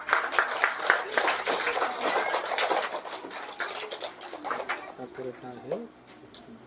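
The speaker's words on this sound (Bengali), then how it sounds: "একটু হাততালি দিও সবাই।" Audience applause at a school term exam result ceremony at Aliah Academy, a burst of clapping that fades out while a voice speaks over it.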